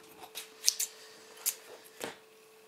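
Scissors snip excess threads off a sewn bow tie strap, four or five small crisp cuts spaced unevenly, close and quiet over a faint steady hum.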